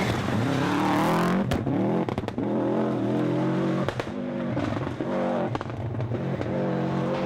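A rally car at the Donegal Harvest Rally roars past, its engine loud and revving hard through gear changes, close and dominant, with brief dips between bursts.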